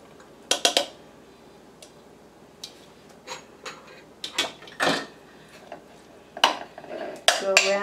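Drained pineapple pieces being placed into a bundt pan for a gluten-free, dairy-free pineapple upside-down cake, heard as scattered soft clinks and taps, fairly close and quiet, with brief pauses between them.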